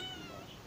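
A domestic cat kept indoors lets out a brief, strained, drawn-out growling yowl, faint but steady from start to end, with no talking.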